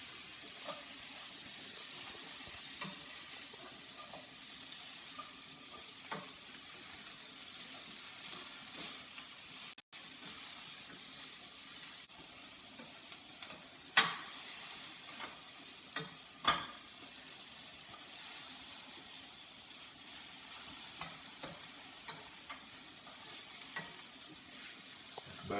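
Seasoned ingredients for Mardi Gras pasta are lightly sautéed in a pot. A long, soft, steady sizzle hisses throughout, with occasional utensil clicks and taps and a brief dropout partway through.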